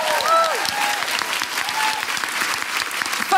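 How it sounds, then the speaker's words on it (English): An audience at a live feminist comedy podcast recording claps loudly and steadily, a dense, close round of applause with no talk over it. "A big round of applause for everyone at the BFI."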